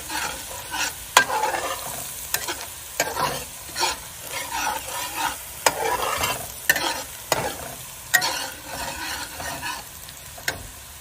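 Garlic and cumin seeds fry in a pan until brown, a steady sizzle broken by sharp scraping stirs that come about once a second, close and fairly loud, with no talking.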